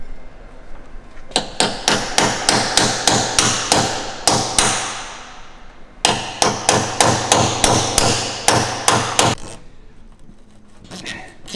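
Sharp metal hammer blows strike a pointed chisel during service work on a McLaren 570S, two quick runs of about a dozen evenly spaced, ringing hits separated by a short pause, close and loud.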